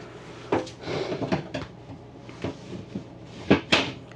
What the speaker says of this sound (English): when you pick the cushion up, it's going to pick the doors up too.